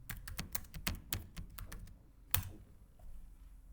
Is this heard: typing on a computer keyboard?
yes